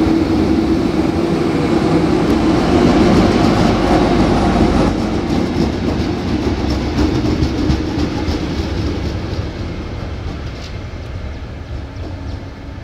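A cement freight train rumbles past close by at a Thai railway station, loud and steady with a rhythmic clatter of wheels that slowly eases off toward the end.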